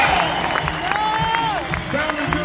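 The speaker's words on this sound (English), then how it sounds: "How about giving a big round of applause to this wonderful horn section, ladies and gentlemen?" Concert audience at the Glasgow Armadillo cheering and applauding the horn section at a 2018 show, a steady crowd roar with whoops throughout, under a sustained sung or shouted voice and music.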